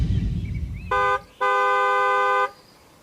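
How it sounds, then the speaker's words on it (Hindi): Loud car horn in an audio drama, one short honk followed by a longer sustained blast, close and harsh over a low rumbling background. "तेज हॉर्न की आवाज आई"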